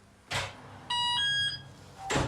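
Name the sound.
alarm beeping in a building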